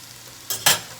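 Leftover potato cakes fry in a pan over low stovetop heat, giving two short, close bursts of sizzling as they are shifted, with a quiet hiss before and after.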